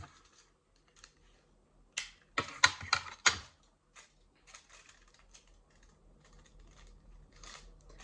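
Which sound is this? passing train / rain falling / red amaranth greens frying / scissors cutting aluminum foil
scissors cutting aluminum foil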